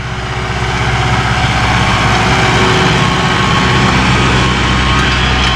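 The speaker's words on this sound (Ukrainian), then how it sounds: "Ось тракторець мій. В роботі з такими дисками." A DTZ 5504K tractor engine pulling a homemade 2.5 m disc harrow runs steadily and loudly throughout, a constant low rumbling drone with no pauses.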